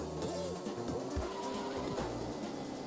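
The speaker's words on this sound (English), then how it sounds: "I am being very dumb with my drifts." Karts drifting in Mario Kart DS, with a steady engine hum and repeated rising and falling squeal-like drift tones and skids over a continuous race background.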